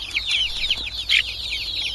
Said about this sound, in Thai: เห็นไหม ลูกไก่เต็มไปหมดเลย